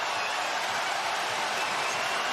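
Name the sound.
basketball arena crowd at Spurs vs Warriors game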